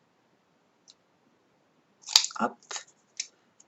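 Scissors snip through paper cut at an angle for a cardboard chocolate-box advent calendar: a few short, close crisp cuts, with a brief spoken word just before.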